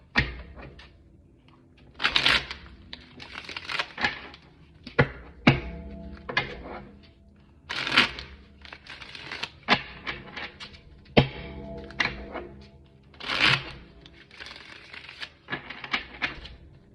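Tarot cards are shuffled in repeated quick riffling bursts, separated by light taps and pauses, close to the microphone.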